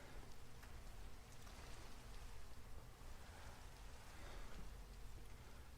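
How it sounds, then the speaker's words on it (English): Steady, loud video game rain pours without pause, a dense hiss of drops with a low rumbling underlayer and no voices. "rain's always so loud"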